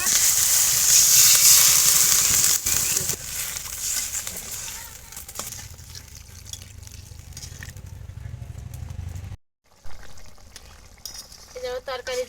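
Water poured into a pan of frying rui fish and potatoes for curry sets off a loud, bright sizzle that settles into quieter bubbling and stirring, with a brief break and a few scrapes near the end.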